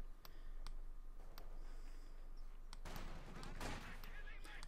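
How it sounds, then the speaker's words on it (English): Machine gun bursts from an MG42 in the WWII strategy game Company of Heroes 2, several sharp rattling volleys over a steady battle backdrop, with more distant gunfire mixed in and no talk. "MG42 moving up to support the Grenadiers"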